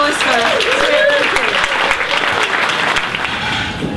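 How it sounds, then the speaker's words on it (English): A pub crowd gathered for a politics talk claps to welcome a visiting professor, a full, lively round of applause close by that slowly eases off, with a voice briefly audible over it. "a big round of applause for Stuart."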